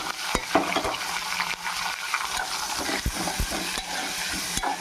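Tomato and onion pieces fry in a pan with curry leaves, a steady hiss of sizzling under repeated sharp scrapes and knocks of a spoon stirring against the metal, close and fairly loud with no voices.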